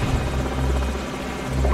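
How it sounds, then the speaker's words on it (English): Enemy helicopter in Call of Duty 4: Modern Warfare gives a steady, loud rotor drone with a deep low thrum that holds throughout, unbroken by talk. "Enemy helicopters."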